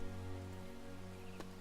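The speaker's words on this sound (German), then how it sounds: "Jetzt fängt es noch an zu regnen." Rain pours in a forest scene in the LEGO The Hobbit video game, a steady hiss layered under sustained game music tones, with a brief sharp tap near the end.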